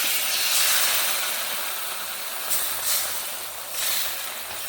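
Thin rice batter for chakli pitha hits a hot pan with a steady, broadband sizzling hiss that swells in a few brief surges, close and continuous, with no talking.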